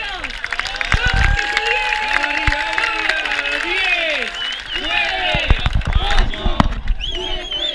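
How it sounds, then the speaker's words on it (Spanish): A crowd applauds and cheers loudly just before the start of a race, a steady wash of clapping with voices and shouts mixed in throughout. "a ver un aplauso fuerte de todos nosotros"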